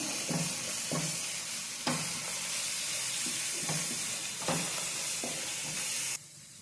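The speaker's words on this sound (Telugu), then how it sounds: "ఇప్పుడు ఈ మసాలా అంతా బాగా ఫ్రై అవ్వాలండి ఆయిల్ సపరేట్ అయ్యే వరకు ఫ్రై చేసుకొని" Masala sizzling in oil in a pan as it fries until the oil separates, a continuous loud hiss broken by periodic stirring scrapes, ending abruptly into a quieter tail; no speech.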